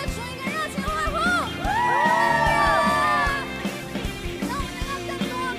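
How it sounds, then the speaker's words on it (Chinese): A church congregation cheers and whoops for the Lord during worship, with rising shouts and high yells swelling in the middle, then tapering into scattered voices and claps. "给我们的主一个热情欢呼"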